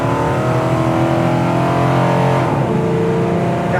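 A 1964 Pontiac GTO muscle car accelerating hard from inside, the engine loud and steady as it revs up, then the pitch drops at an upshift into second gear before climbing again.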